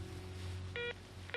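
Telephone dialing tones sound in a cartoon, two short electronic beeps spaced apart over a low background hum.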